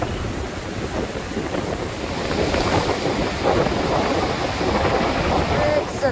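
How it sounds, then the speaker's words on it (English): Strong wind gusts loudly across the microphone on the Pictured Rocks National Lakeshore, with waves breaking steadily beneath, a continuous, rising roar with no speech. "you'll probably be able to tell by the footage today that's windy"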